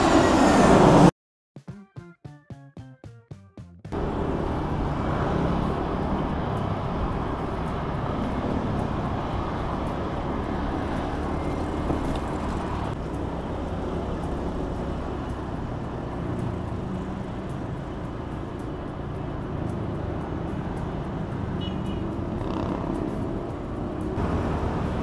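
Road traffic near the C5 Expressway makes a continuous low roar of passing vehicles that holds steady for over twenty seconds, after a short burst of clicks and noise at the start.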